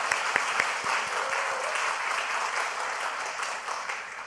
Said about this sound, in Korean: 다시 한번 우리 격려 박수 한번 하겠습니다.